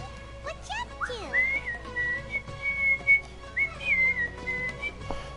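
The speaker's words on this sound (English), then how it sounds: "Sorry, I'm whistling. It's a little out of key." A person whistles a tune slightly out of key while playing Genshin Impact, with wavering, close-up melodic whistled notes over quiet game music and a low background hum.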